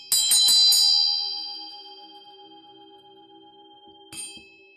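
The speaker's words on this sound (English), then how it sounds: "The second one is a bell" A small decorative bell rung up close, several rapid bright strikes in quick succession that ring out into a long shimmering decay, then one more single tap near the end, with no talking.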